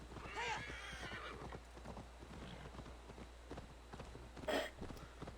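Horse hooves clip-clop in the video game Assassin's Creed Valhalla, a steady walking beat under a faint wash of noise, with a brief neigh partway through.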